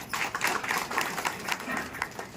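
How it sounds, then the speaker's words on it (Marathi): An audience claps together in a hall at a golden jubilee celebration of a credit cooperative society, the applause steady and dense with scattered sharper claps, fairly distant and somewhat muffled. "सगळ्यात वेगळा टाळ्या वाजून आपण स्वागत करू"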